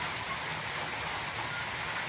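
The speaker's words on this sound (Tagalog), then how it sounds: "Ah, lumukas yung ulan." Rain falls hard and unbroken near a small hut where poultry are kept, a thick continuous wash of noise at an even level, close by and without talk.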